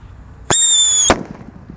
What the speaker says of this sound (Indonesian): Sudah menyala mercon Blackbuster.